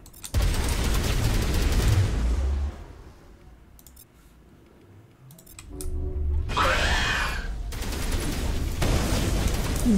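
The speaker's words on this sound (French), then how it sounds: "Ça tire dans tous les sens." Rapid gunfire in the video game Mass Effect, dense bursts of shots crackling in two intense stretches separated by a quieter lull, with clicks and game effects in between.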